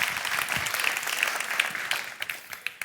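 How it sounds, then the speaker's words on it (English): Applause from an audience at an art foundation talk welcoming a speaker, a short burst of clapping that fades into scattered individual claps. "So please have a warm round of applause for Humberto Moro."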